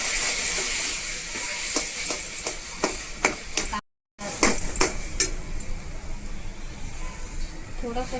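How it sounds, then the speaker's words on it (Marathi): A spoon mixes kacchi dabeli filling with garlic chutney and date chutney in a metal bowl, giving repeated clinks and scrapes with a brief gap midway, while a person talks throughout. "तर चला हे सर्व एक मिश्रण आपण करून घेऊया व्यवस्थित"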